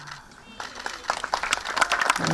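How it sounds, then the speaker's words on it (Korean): Applause at an elementary school promotion and playground opening ceremony in Seonheul, Jeju: crowd clapping begins after a quiet moment and builds into a dense, steady patter of many hands, mixed with voices. "박수 부탁드립니다"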